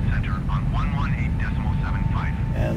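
Steady low cabin rumble from an Airbus A321neo climbing out after takeoff on a Düsseldorf to Riga flight, heard from the flight deck with a voice talking over it throughout.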